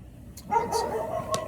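Dogs bark nearby, a few short sharp barks and yips over about a second, moderately loud against a low background hum.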